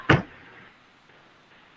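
A single sharp sneeze bursts out close and loud, then fades into a quiet room hum.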